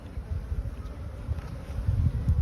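Honeybees hum in a dense, continuous low drone from an open hive during a spring inspection, close and steady throughout.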